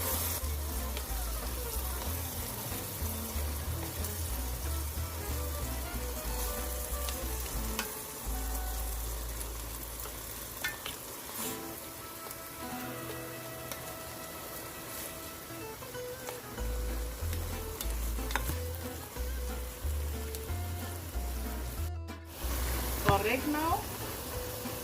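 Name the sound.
sautéing ground beef with tomato paste in a pan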